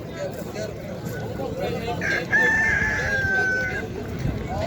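A fighting rooster crows once in the middle distance at a poultry market in Izmir, a drawn-out call rising over steady background noise and faint voices.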